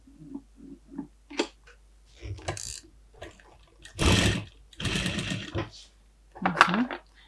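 A sewing machine stitches velour patchwork pieces, parquet-style quilting mixed with ornament, running in several short bursts of varying length with pauses and handling noise between them, fairly close.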